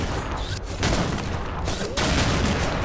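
Sniper and other gunfire in the shooter game XSHOT, loud close shots recurring about once a second, with a voice talking briefly.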